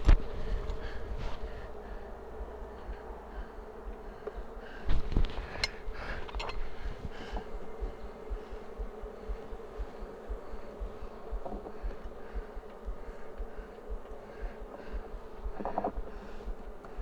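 Honeybees buzz around an open hive during a beekeeping inspection, a dense, continuous drone with a few louder close passes and no talking.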